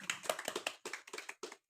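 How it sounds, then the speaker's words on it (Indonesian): A few short bursts of hand clapping from an audience at a church synod gathering, faint and sparse, with brief gaps between the clusters of claps. "Tepuk tangan."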